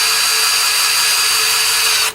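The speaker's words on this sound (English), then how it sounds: "Got the battery drill." A battery drill runs at full speed with a steady, loud, high-pitched whine for about two seconds, close up, then starts to wind down right at the end.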